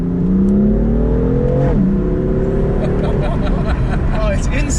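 A BM3-tuned BMW M4 making 542 bhp accelerates hard, its loud engine note climbing steadily in pitch before a gear change and then rising again, close and continuous, with a voice talking over it.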